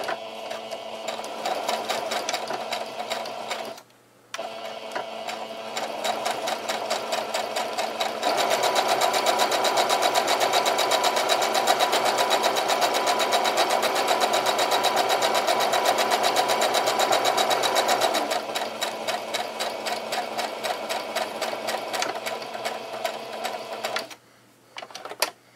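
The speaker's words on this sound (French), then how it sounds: "je vais coudre là sur toute la longueur" A sewing machine stitches a homemade fabric face mask in a long, loud, steady mechanical whir with a fast needle rhythm, briefly pausing twice and speeding up in the middle.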